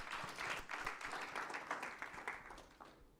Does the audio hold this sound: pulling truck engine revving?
no